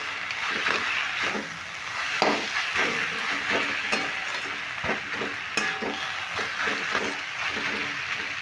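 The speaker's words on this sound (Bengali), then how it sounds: "তারপরে আমি একটু ভালো করে আবারও মেরে মেরে নেব তাহলে খুব সুন্দরভাবে কষানো হয়ে যাবে" Red radish ghonto being sautéed and stirred in a pan, a constant sizzle broken by frequent rhythmic taps and scrapes of a spoon against the pan, close up and busy.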